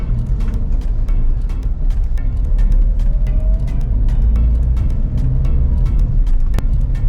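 A car creeps forward slowly in first gear, its engine a low, steady rumble close by, with light clicks and knocks from the cabin scattered over the drone.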